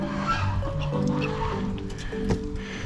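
Guinea fowl calling outdoors, a steady chorus of overlapping harsh, rhythmic bird cries held at moderate loudness throughout, with no talk over it.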